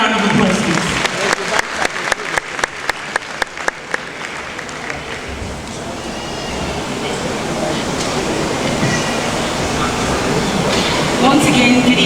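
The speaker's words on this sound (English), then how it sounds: "Can we give her a round of applause, please?" At an African Fashion Week event, an audience greets the First Lady of Kwara State with a burst of distinct claps that swells into a broad, sustained crowd roar.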